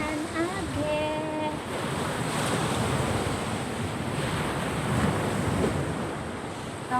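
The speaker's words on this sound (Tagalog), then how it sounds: "Lakas kasi ng alon." Strong sea waves surge and crash onto a beach in a steady, loud wash of surf with gusty wind buffeting the microphone, and a faint voice is briefly heard near the start.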